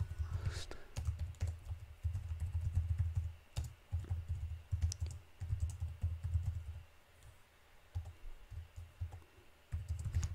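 Fingers type on a computer keyboard close by, in quick bursts of soft clacking keystrokes with brief pauses between runs, plus a few sharper single clicks.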